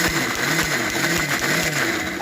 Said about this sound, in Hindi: चलाते हैं मिक्सी।